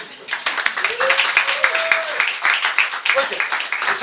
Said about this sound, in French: voici Jackie, on peut l'applaudir.